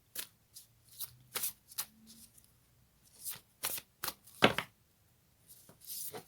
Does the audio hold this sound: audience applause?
no